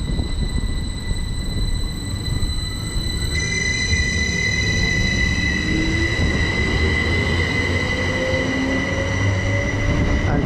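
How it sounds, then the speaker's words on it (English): Class 387 electric train pulling out of Cambridge North station, its steady rolling roar with high tonal whine and faint wheel squeal, loud and close throughout with no voices. "Also departing out, we've got some 387s heading from London King's Cross to Ely"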